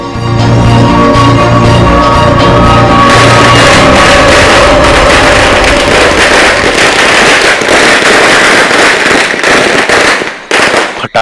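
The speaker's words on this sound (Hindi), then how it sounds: "पटाखे तो फूट गए" A long string of firecrackers bursts in rapid, crackling succession, loud and close, with a dense rattle of sharp pops that runs on for about ten seconds before trailing off into a few scattered final bangs.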